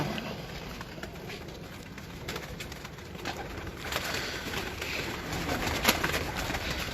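Pigeons coo softly against a steady wash of outdoor background noise on a rooftop in Gujranwala, with no talking.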